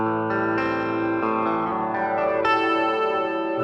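A Gibson electric guitar played with a clean tone rings out in strummed chords that change several times, loud and sustained, with no talking.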